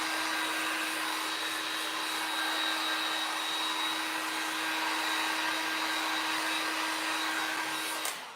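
A hair dryer blows steadily on wet spots of a board, producing a constant close whirring hiss with a fixed tone that cuts off at the end.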